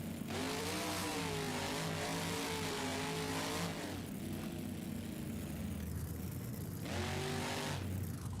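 A car in the BeamNG Drive racing game launches hard out of the starting gate, its engine revving up in a rising, sustained roar that dips briefly before surging again, loud and alone with no talk.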